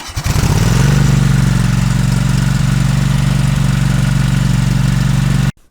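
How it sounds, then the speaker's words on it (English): A tractor engine cranks briefly and catches, started with a modified jump starter, then settles into a loud, steady, throbbing idle up close before cutting off abruptly at the end. "we're going to use the key on this guy to end up starting the tractor"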